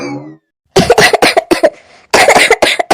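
An older woman coughs openly indoors at home, several loud, close, harsh coughs in two quick bursts after a short pause, with no talking.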